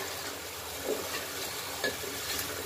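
Fish and bottle gourd curry stir-fried in a pan in a home kitchen: a soft, continuous sizzle with a few light scrapes and knocks as the mixture is stirred.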